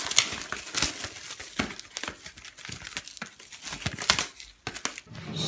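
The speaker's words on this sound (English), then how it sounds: "Now it's all done up with cellophane." Cellophane wrapping being torn and crinkled off a Sgt Pepper 50th anniversary box set, close and sharp, with repeated crackling bursts and rips at an irregular rhythm.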